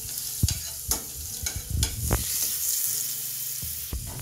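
Butter sizzles and spits in a hot pan that already holds oil, a steady close hiss broken by several sharp clinks and scrapes of a utensil.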